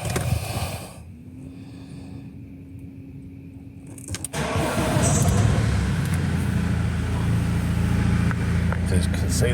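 BMW X3 engine started after a coolant change: a short whirring crank and click, then the engine catches and settles into a steady, fairly loud idle with mechanical clatter, heard up close under the bonnet.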